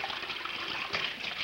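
Running tap water splashes while raw chicken is washed for soup, a steady close hiss of flowing water with small surges, fairly quiet and with no talk.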